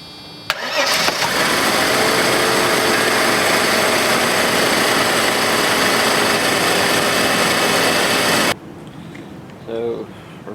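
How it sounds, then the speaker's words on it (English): A Mercedes M103 engine cranks and catches after a fan clutch replacement, then runs at a loud, steady idle close by for about eight seconds before cutting off abruptly, with a short quieter noise following. "I'm just going to quickly start the engine and make sure everything is okay"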